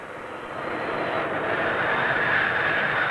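A fixed-wing aircraft coming in to land, its engine roar a steady broadband rush that swells slightly and holds loud throughout, with no voices.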